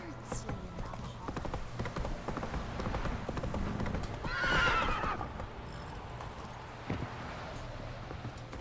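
Horse hooves clip-clop in a Witcher 3 game scene with a loud neigh midway, steady hoofbeats continuing under game sounds and a voice speaking over them.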